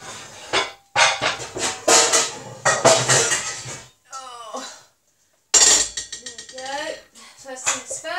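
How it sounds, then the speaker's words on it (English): Metal pots and pans clank and clatter as someone rummages through a kitchen cupboard for a frying pan, in bursts of loud clinks and knocks with a pause midway and a voice talking over parts. "So, let me find my frying pan."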